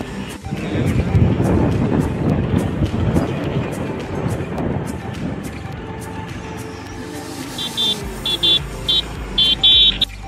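A motorbike ride in rainy-season weather, with a steady engine drone and wind rumble up close, then short horn beeps near the end as the noise eases.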